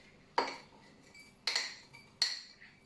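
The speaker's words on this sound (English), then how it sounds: "we're gonna take our rocks glass and we're gonna fill it half the way with some crushed ice" Crushed ice is scooped into a rocks glass in three sharp, bright clinking bursts about a second apart, each a quick rattle that fades, with no talking.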